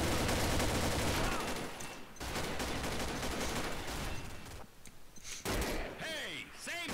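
Bursts of gunfire from the Combat Arms online shooter rattle in dense, rapid volleys, pausing briefly before firing again, loud and close, with a player talking over them.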